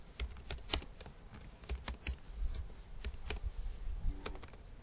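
Java code typed on a computer keyboard: a quick, uneven run of crisp, close key clicks with short pauses, heard alone without speech.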